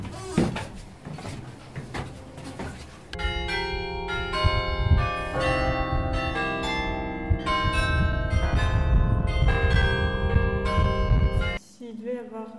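Bells of the Belfry of Bruges ringing: after some clunking mechanical knocks, a loud, close peal of many overlapping bell tones rings for several seconds and then stops, leaving a fading hum.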